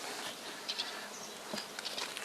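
A faint, steady buzz of honey bees hovering nearby at an apiary, with a few brief louder passes as individual bees fly close.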